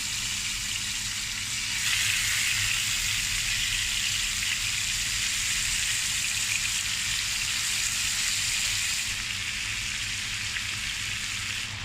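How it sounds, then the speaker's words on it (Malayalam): Chicken pieces frying in oil already used to fry onions, giving a constant dense sizzle up close that rises a little louder after a couple of seconds, with no voices. "ഉള്ളി വറുത്ത എണ്ണയിലേക്ക് തന്നെ നമ്മുടെ ചിക്കൻ ആഡ് ചെയ്യാം"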